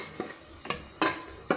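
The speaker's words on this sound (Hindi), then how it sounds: "1 मिनट सारे मसालों को हम फिर से भून लेंगे।" Spices fry in a pan of oil for a cluster bean curry, with a soft steady sizzle and a few light scrapes of stirring spaced about half a second apart.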